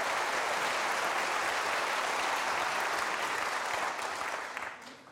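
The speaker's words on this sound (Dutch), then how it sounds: "misschien even eerst een aanmoedigend applaus" Studio audience at a Dutch television talk show lecture on the brain gives a warm, encouraging round of applause, dense and even throughout before tapering off at the end.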